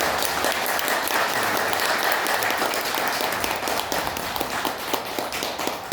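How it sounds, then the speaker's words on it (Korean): A church congregation applauds warmly for the visiting pastor at a Korean church service dedication worship, a dense, steady wash of many hands clapping close by for about six seconds without talk. "우리 힘찬 박수 한번 해드리겠습니다"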